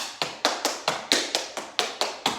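Tap shoes sound out a broken-up Cincinnati step in a tap dance exercise, about ten crisp, evenly spaced taps played close and clear with no talking.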